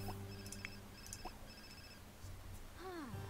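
A phone rings in The Sims 4, with short repeated electronic ringtone bursts under low background music, followed by a rising-and-falling synthesized chime near the end.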